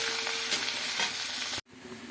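Close, dense sizzle of chopped onion frying in oil in a pan, with light stirring scrapes, cutting off abruptly near the end and leaving a quieter hiss.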